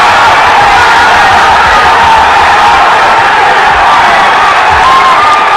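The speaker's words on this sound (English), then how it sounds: "The roar of the crowd echoed their triumph." A large crowd at a national science and maths quiz grand finale roars and cheers continuously, a dense, loud wash of voices sustained throughout with no pauses.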